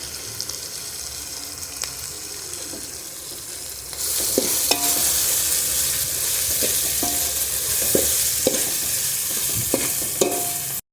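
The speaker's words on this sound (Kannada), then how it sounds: "ತೆಂಗಿನ ತುರಿ ಹಾಕಿದ್ಮೇಲೆ ಚೆನ್ನಾಗಿ ಫ್ರೈ ಆಗಬೇಕಿದು" Beans palya with grated coconut frying and being stirred in a pan, a steady loud sizzle that jumps up partway through, with scraping clicks from the spatula and no talking.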